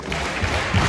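Group of secondary school students clapping hands in unison during a classroom game, a dense burst of claps close by with a stronger flurry near the end.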